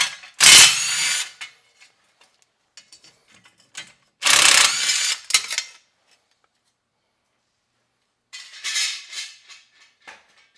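A small impact wrench spins loose bolts during a rear wheel bearing and brake job. It gives three loud, buzzing rattling bursts of about a second each, with short pauses between them and no talk.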